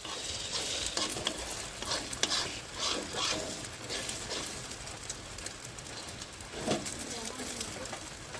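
Two eggs frying together in a pan, a steady close crackle and sizzle running the whole time with bursts of spattering, nothing else standing out above it.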